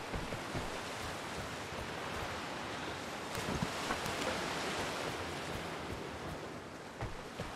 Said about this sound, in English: it's nice to have the sound of the water